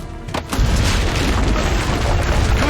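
Cannon fire from the ramparts in the action game Assassin's Creed Brotherhood: a deep, loud boom that rolls into a sustained rumbling roar lasting a couple of seconds, with no talk over it.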